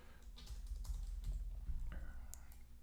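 Keys tapped on a computer keyboard ending with the Enter key, a few faint close clicks and taps over quiet room tone.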